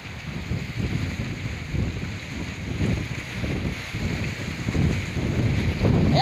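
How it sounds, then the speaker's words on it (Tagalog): Strong wind roars steadily across the microphone at the Baseco seawall, a continuous low buffeting rumble with gusts swelling near the end, and no voices. "ang lakas po ng hangin dito"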